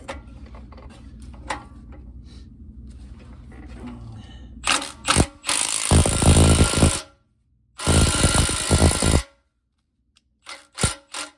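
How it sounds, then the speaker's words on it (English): A Milwaukee stubby impact wrench drives a bolt in two loud, close bursts of rapid hammering, each about a second or more long, separated by brief silence, with quieter clicks and handling noise before and after. "it should just take just a couple hits on the impact"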